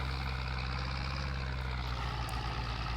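A tractor engine runs steadily in Farming Simulator 22, a constant low diesel drone with a droning harmonic hum that holds at an even level for the whole stretch, with no talk.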